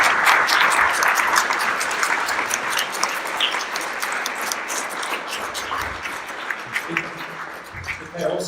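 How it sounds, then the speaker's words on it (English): A seminar audience at a panel Q&A session breaks into sustained, loud applause for a panelist, the clapping gradually thinning toward the end, with a few spoken words surfacing in the final seconds. "So I think we should give a round of applause for Wouter."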